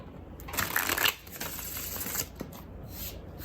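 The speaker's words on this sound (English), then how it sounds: "let's shuffle one more time" Tarot cards shuffled close by in a quiet room, a brief papery riffle and soft slides at moderate volume, with no voices.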